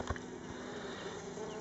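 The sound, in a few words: honey bees buzzing on a hive frame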